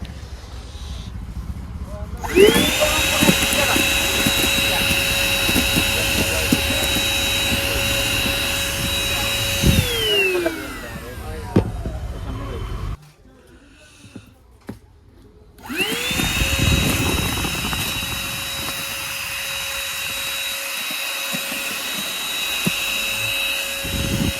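Cordless vacuum cleaner running with a loud, steady whine for about ten seconds, switching off with a falling pitch, then restarting after a brief silence and running steadily again.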